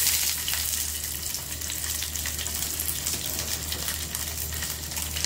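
Pieces of a Navratri fasting snack are lightly roasted in a pan with a little oil, giving a soft, steady sizzle and hiss that continues unbroken and fairly quiet, with no talking.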